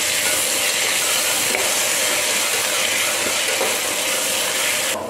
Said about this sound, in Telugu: జింజర్ గార్లిక్ పేస్ట్ అనేది మనకి పచ్చివాసన పోయేంత వరకు మనం బాగా ఫ్రై చేసుకోవాలండి